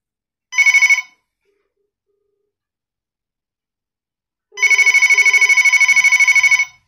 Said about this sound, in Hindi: फ्रेंड्स बहुत ही अच्छी रिंग है